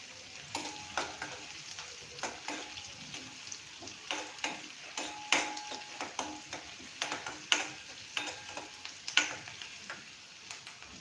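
Onions sautéing in a pan for batata poha, with a steady sizzle and frequent sharp clinks and scrapes of a stirring utensil against the pan, close and without talk.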